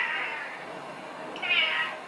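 A cat meows twice in a home-brewing kitchen, a faint drawn-out cry followed by a louder, higher one, close by against quiet room noise.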